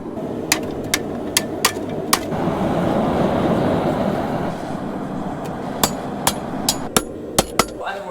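Spring steel is forged with hammer blows on an anvil, sharp ringing strikes at an uneven pace, close and loud, with a brief lull of steady machine-like rumble between bursts of blows.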